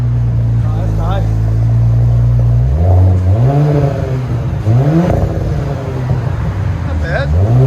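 Revving 2021 Audi S5 3.0L turbocharged V6 breathing through a dual MBRP cat-back exhaust: a loud steady idle drone, then three rising-and-falling rev sweeps close by, with people talking over the engine.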